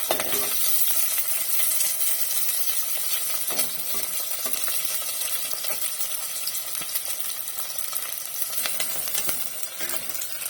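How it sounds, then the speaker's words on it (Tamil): About fifteen cut small onions (shallots) sauté in a pan for an egg kuzhambu, producing a loud, dense, unbroken sizzle with faint stirring scrapes and occasional light taps near the microphone. "வெங்காயம் கொஞ்சம் வதங்கிடுச்சு"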